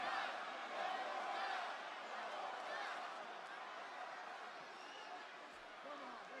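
A wrestling arena crowd at a live WWE Raw show roars in a constant, distant wash of cheering heard through a stream, fairly quiet and unbroken throughout.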